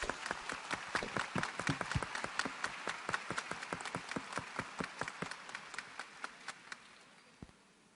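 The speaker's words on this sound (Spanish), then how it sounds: "Recebamos o Frei Javier com uma salva de palmas." An audience at a lecture on Saint Teresa claps to welcome Frei Javier, with scattered, distinct hand claps that start fairly full and thin out to a few isolated claps near the end.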